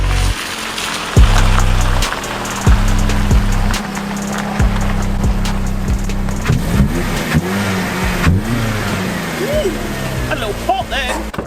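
A Ford Focus ST170 engine with an exhaust leak idles and revs nearby with a rough, puffing exhaust chatter, while a person talks over it.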